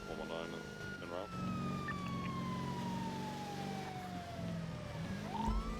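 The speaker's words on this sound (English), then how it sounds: "That ambulance sounds weird." An ambulance siren in the video game GTA, on a NoPixel roleplay server, wails in a long, slowly falling sweep that turns back up near the end, with voices talking over it.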